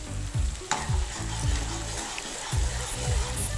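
Whole cumin and dried coriander seeds sizzle and fry steadily in a hot pan, a loud continuous crackle with brief stirring scrapes and no talk.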